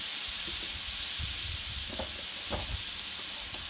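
Loud, steady steam hissing off a hot Blackstone griddle cooking chicken wings, continuous throughout, with a few soft taps and crackles underneath.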